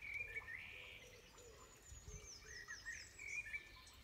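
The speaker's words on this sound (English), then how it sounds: "Birds singing just after a bit of rain." Birds sing faintly outdoors just after rain near a country lodge, thin scattered chirps and short whistled phrases over a soft, steady ambient hum, with no talking.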